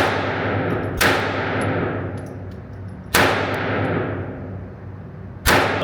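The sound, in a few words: handgun being fired one-handed at a target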